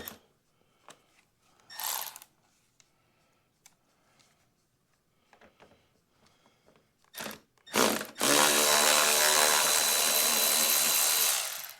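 Short bursts of a power drill removing screws from plastic parts of a BMW R1200GS motorcycle in a quiet room, ending in a long, loud continuous drilling run.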